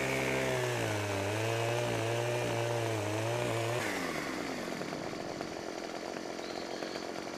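A chainsaw in Farming Simulator 2017 revs at steady high speed, then bogs down into a rougher, lower snarl as it bites into a thick tree trunk, loud and close throughout, with no speech.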